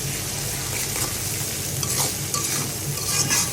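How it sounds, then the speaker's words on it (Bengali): Dried churi fish from Cox's Bazar frying with onion and garlic in a pan, a continuous close sizzle with scraping stirs and occasional crackles, loud and steady for several seconds, no speech. "শুটকিটা দিয়ে এভাবে ভেজে নেব।"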